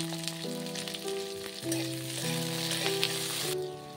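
Chopped onions sizzle steadily in hot oil in a pan for a crispy chilli baby corn dish, a close, even frying hiss with light stirring over soft background music.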